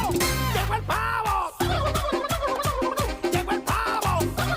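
A turkey gobbling in rapid, warbling bursts, loud and close, repeated several times across a few seconds over a dense, rhythmic background with no clear talk.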